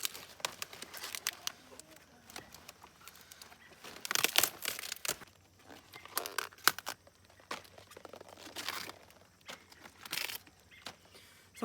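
Leaves are snapped and torn off fresh cabbage heads, making close crisp crunching, crinkling and ripping bursts in irregular bunches, with quiet gaps between them.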